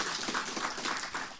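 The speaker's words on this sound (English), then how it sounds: "Let us clap for Professor Gitau again." An audience applauding Professor Gitau at a university function, a brief burst of dense clapping heard at moderate distance with no voices over it.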